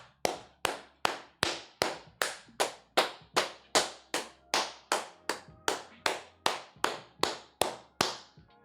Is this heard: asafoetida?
no